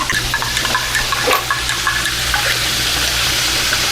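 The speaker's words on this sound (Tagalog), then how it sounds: "lagyan ko lang ng tubig malamig" Cold water pours into a cup for coffee in a steady, continuous splashing stream that stays close and even from start to finish.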